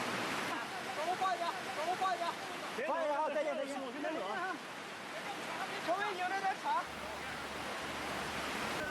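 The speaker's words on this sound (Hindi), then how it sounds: "बहुत तेज पानी की धार।" A strong, fast current of floodwater pours in a continuous hissing rush, with a voice speaking over it throughout.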